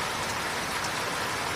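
Steady, hissing rainfall pours down on pigeons sitting out in the open, an even wash of drops with no pauses and no voices.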